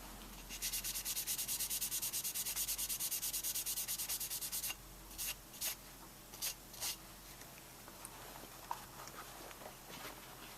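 Crayon wax being rubbed off a Spikes Tactical AR Punisher lower receiver with WD-40 makes fast, steady scrubbing strokes for several seconds, then breaks into a few short, separate rubbing bursts.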